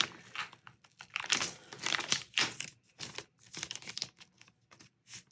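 Protective plastic film is peeled and crinkled off a new Lenovo Tab P11 tablet, close, quiet bursts of crackling and tearing in irregular spurts with short pauses between them.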